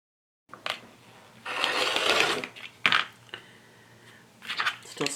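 A sewing machine stitches a fabric binding strip along raw edges in short runs of steady whirring, close by, separated by brief pauses and small clicks.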